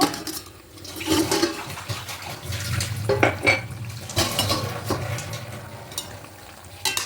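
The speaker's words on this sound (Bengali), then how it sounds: "ঢাকাটা খুলে নেব" A lid comes off a cooking pot of rohu fish curry with taro stems and potatoes simmering on a gas stove, bringing clatters and clinks of metal over a low bubbling, near and moderately loud.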